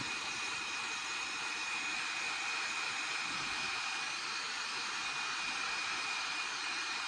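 Hot air blower warming the label on an SNES-style game cartridge so the adhesive softens, giving a steady, continuous fan-like roar with a high whine that runs unbroken throughout.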